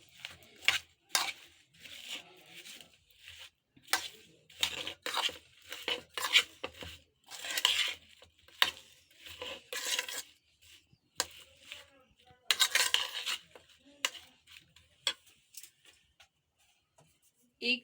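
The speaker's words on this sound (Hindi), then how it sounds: "अब हम इसमें 1 चम्मच मायोनीज़ की शामिल करेंगे और इसको अच्छी तरह मिक्स कर लेंगे" A spoon stirs a spoonful of mayonnaise into a guava dish, giving irregular scraping and clinking strokes against the bowl, close and moderately loud, with brief pauses between bursts.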